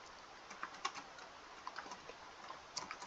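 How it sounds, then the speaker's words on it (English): Fingers type on a computer keyboard while entering a spreadsheet formula, a quick, irregular run of faint clicks and taps in a quiet room. "Let's type in the formula."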